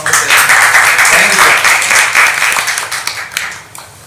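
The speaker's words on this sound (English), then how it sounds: "a big round of applause to all of the presenters" Applause from a conference session audience fills the whole span, dense clapping that gradually thins and fades toward the end.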